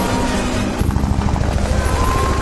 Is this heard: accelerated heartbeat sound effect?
no